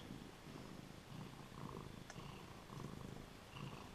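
A cat purrs steadily and softly close by, a low continuous rumble with gentle rhythmic swells, alone with no talking.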